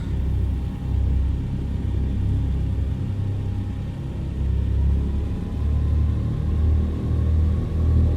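Heinkel He 111 engines in a flight simulator game rumbling steadily while the aircraft taxis, a low, pulsing drone swelling and easing in gentle waves with no talk.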